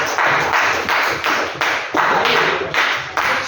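A classroom group claps steadily, with dense, rhythmic hand claps swelling in waves, fairly close and loud, with no talking.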